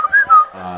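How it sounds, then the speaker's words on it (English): Two short whistled notes, close and clear, followed by a brief murmur of voice. "It's whistling."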